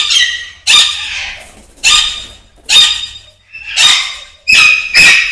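Young Alexandrine parakeets at a bird nursery give repeated harsh, loud squawks in an irregular series of about seven bursts, each sharp and close, with no talk.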